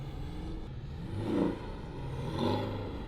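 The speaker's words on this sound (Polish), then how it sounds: "dodaj mocniej gazu, zerwiesz przyczepność i zaczyna ci odchodzić samochód" A Porsche 718 accelerating while drifting on a track produces a faint, distant engine whir that swells twice with rising revs, over steady low background noise.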